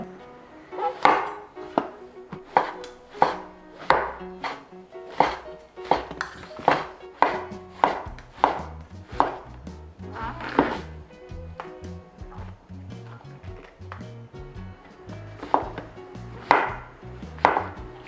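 A knife slices king oyster mushrooms thinly on a cutting board, giving a series of crisp, evenly spaced chops that land close and clear, with a brief pause partway through.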